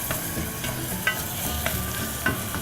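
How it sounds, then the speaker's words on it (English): Onions, bay leaf and sugar sizzling in a frying pot, close and steady, with a few soft scrapes of a spoon stirring the mix. "give it a good stir"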